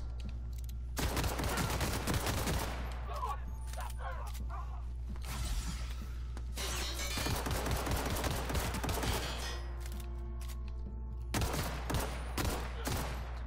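Shotgun fire in The Outer Worlds video game: repeated loud blasts and mechanical clacks come in bursts over a constant low hum, with short lulls between volleys.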